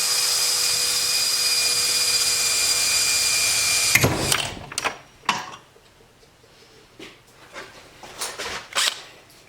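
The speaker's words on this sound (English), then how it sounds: "Punch in the holes to drill out the block-off plate." A power drill whines loudly and steadily for several seconds while drilling holes in a metal block-off plate for a Mazdaspeed6, then stops, followed by scattered clunks and brief bursts of metallic handling noise.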